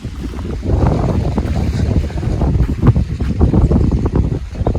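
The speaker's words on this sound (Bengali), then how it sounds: "দারুণ হাওয়া দিচ্ছে।" Strong wind at a hill resort surrounded by green hills and forest, buffeting the microphone in a loud continuous low roar with gusty swells, no voices.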